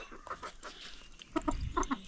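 Chickens cluck in short, bright bursts close by, several birds calling in quick succession over a quiet background.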